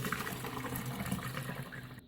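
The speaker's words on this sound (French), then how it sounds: "Je verse ma préparation dedans." Nougat cream mixture poured from a bowl into a pitcher, a close steady liquid pour with gurgling and splashing that cuts off abruptly at the end.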